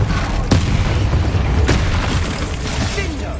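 Two heavy booming blasts from spell explosions in Hogwarts Legacy, loud and close, spaced about a second apart over a dense rumbling background.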